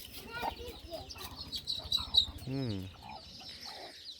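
A hen clucks among other chicken calls at a forest settlement, with a sharp rooster-like cry in the middle, soft voices and rustling beneath, close and moderately loud.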